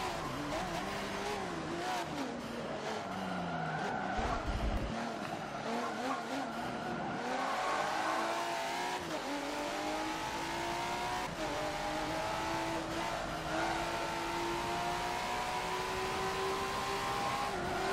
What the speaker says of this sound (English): it's just redlining, banking off the rev limiter there